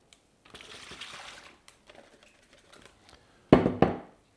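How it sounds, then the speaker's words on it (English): Crinkly plastic bag rustling in short bursts as marinated pork tenderloin goes in, quiet at first, then two sharp loud crackles near the end, with handling clicks in between. "into a plastic bag it all goes."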